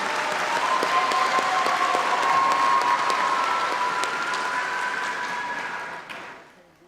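Loud, sustained applause fills a graduation ceremony hall, the crowd clapping together for several seconds before it thins and dies away.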